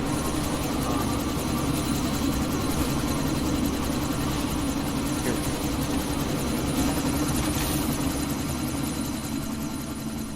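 A helicopter in the video game Deus Ex Mankind Divided, caught in a sandstorm, gives off a steady, heavy engine drone and rotor rumble that holds evenly close by, with no talk over it.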